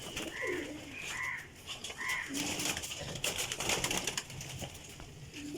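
Pigeons kept for flying by a breeder coo repeatedly at close range, with soft, rolling calls rising and falling against a busy background.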